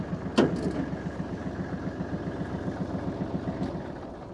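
A Kubota GL25 small tractor engine chugs steadily as the tractor drives faster, a fast, even rhythmic putter close by with a brief sharp click near the start.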